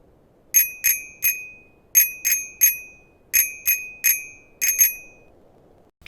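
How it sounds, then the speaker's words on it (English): Bicycle bell in Untitled Goose Game rung out in the rhythm of Jingle Bells, crisp bright dings in grouped patterns of two and three, close and clear with nothing else heard. "I took this opportunity to play Jingle Bells on the bike."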